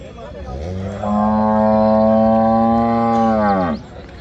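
A cow lets out one long, loud, drawn-out moo lasting a few seconds, close by, over low background murmur at the Sardar Nagar cattle market, with HF and Jersey cows.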